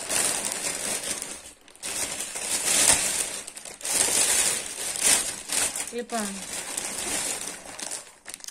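A plastic shopping bag from a Jumbo store haul crinkles and rustles in loud, uneven bursts as it is handled, while someone speaks briefly over the sound.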